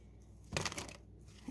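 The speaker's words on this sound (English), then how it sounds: "I want to do a couple more shuffles here" Tarot cards shuffled for a love reading, a short quiet riffle of paper rustling and snapping lasting about half a second, heard alone in a hushed room.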